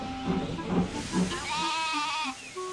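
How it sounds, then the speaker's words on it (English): Sheep in a field let out a drawn-out, wavering bleat, preceded by a few shorter, rougher calls, all clear and fairly close. "so this is where the sheep have gotten to."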